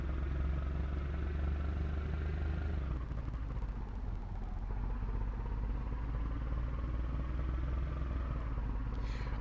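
A Land Rover engine in Gran Turismo 4 drones loudly at high revs, dips briefly as a gear changes, then climbs back into a steady strained roar.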